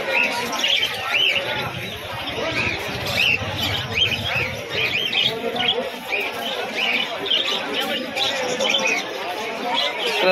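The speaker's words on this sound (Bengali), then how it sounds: "এখানে কিছু সুন্দরী পায়রা আরও দেখতে পাচ্ছি, সুন্দরী জোড়া রয়েছে।" Pigeons cooing and birds chirping in a crowded animal market, with people talking throughout over a steady murmur.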